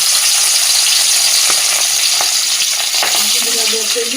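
A loud, steady sizzle of fish frying in hot mustard oil, with a few sharp pops scattered through it and no talking.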